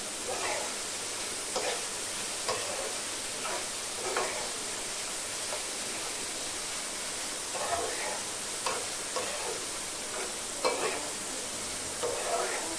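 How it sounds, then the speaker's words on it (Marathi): Dried shrimp frying with onions in a pan, a steady close sizzle broken by repeated spatula stirs and scrapes, with no talking over it. "आता ही सुकट आपल्याला कांद्याबरोबर फ्राय करायची आहे"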